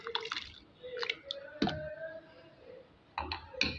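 Cut potato pieces for homemade french fries are dropped into a pot of heated water, giving a few close splashes and plops among quieter watery clicks and drips.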